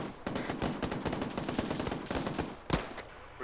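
Automatic gunfire in a video game rattles in rapid, dense bursts for a few seconds, then a single louder shot rings out before a short pause.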